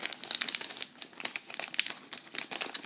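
The plastic resealable bag of a Swedish military dehydrated ration crinkles close up in a quick run of crackles and rustles, handled steadily for a few seconds with no talk.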